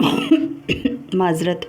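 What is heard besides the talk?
coughing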